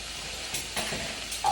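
Tofu scramble frying in a pan, a steady close sizzle with a few stirring scrapes and no talking.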